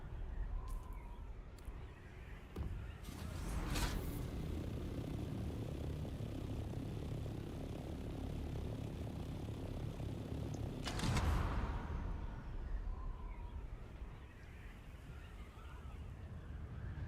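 An aircraft in the Dune: Awakening game drones steadily with a broad engine rumble, marked by two sharp thumping impacts of a rough landing, moderately loud with no talk.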